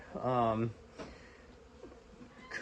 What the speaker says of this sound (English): Anyway, so these bees just showed up.